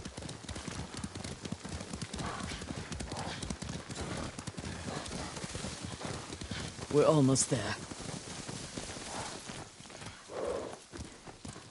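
Horses plod along with steady clip-clop hoof beats in Ghost of Tsushima, continuing under a voice speaking throughout, with a louder burst of activity partway through.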